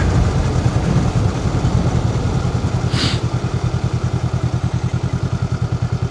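A motorcycle ridden by a new rider slows to a complete stop while dropping down to first gear. Its close engine settles into a steady, low, evenly pulsing thump, with no talking.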